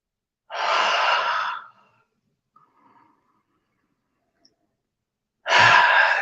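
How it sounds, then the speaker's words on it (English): Two deep breaths, each a long, airy rush lasting about a second, separated by a few seconds of near silence with only faint soft breath sounds between them. "I prefer 1 minute every 1 hour you do the deep breathing"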